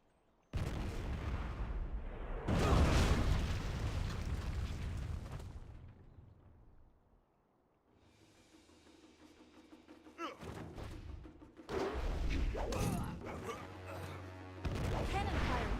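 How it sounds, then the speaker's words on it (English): Cannon fire in a video game: several loud, deep booms with long rumbling tails, some close together, mixed with game sounds and voices. "Cannon fire, look out!"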